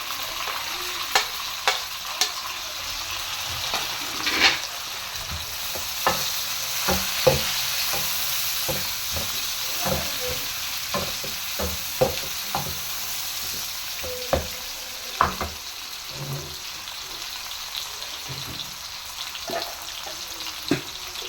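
Onion and tomato masala frying in a pan, a steady close sizzle broken by regular scraping stirs and spoon taps every second or so, with no talking.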